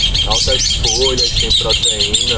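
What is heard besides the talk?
birds singing outdoors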